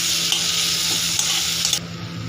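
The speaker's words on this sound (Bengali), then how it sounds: "টমেটোটা ভাজা হয়ে গেছে" Tomatoes with a little salt frying in a pan, a steady close hiss of sizzling oil with faint scraping stir sounds throughout, no voices.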